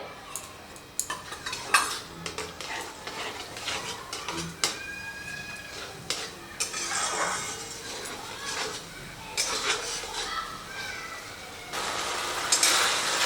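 A cornflour and water slurry is stirred into the gravy for Maggi Manchurian balls, with scattered spoon scrapes and clinks against the pan over a soft sizzle, close and fairly quiet.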